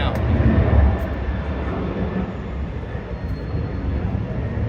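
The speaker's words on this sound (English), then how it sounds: "here comes an American 737 800" American Airlines Boeing 737-800 passing at Dallas DFW, a steady broad jet roar, loudest at the start then holding level, with a voice talking over it.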